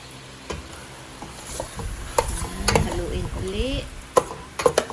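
Chicken for tinola is stirred in a pot with a spoon, producing scraping knocks and clinks over a soft frying sizzle, with a few sharper taps near the end and a voice briefly audible.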